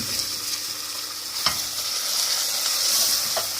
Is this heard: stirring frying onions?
yes